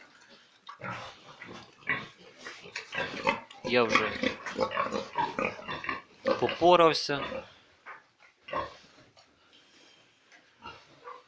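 Freshly fed piglets on a pig farm grunt and squeal close by in a busy, overlapping chorus while someone speaks over them.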